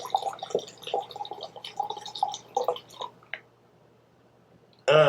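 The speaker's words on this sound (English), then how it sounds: "I'll pour in a decent amount of vodka here." Vodka poured from a bottle, a close gurgling, dripping liquid stream with wet glugs for about three seconds, then quiet, with a brief louder sound at the end.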